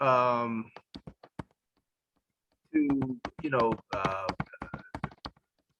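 Soft clicks of typing on a computer keyboard picked up faintly on a call microphone, scattered light taps between and under stretches of conversational speech.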